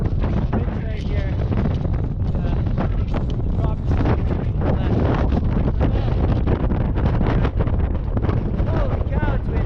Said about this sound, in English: Getting really windy up here.